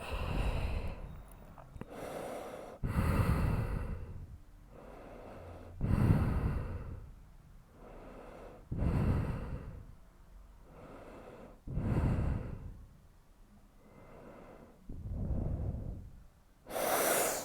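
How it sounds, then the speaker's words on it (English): Heavy, slow breathing close into a microphone during a chair yoga session, with long audible inhales and exhales repeating in a steady rhythm roughly every three seconds. "I realized I was probably breathing heavily into the microphone"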